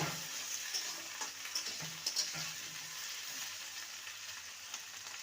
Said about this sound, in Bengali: আলু আর কুমড়োকে দু মিনিট ভাজার পর এবার বেগুনগুলো দিয়ে দেবো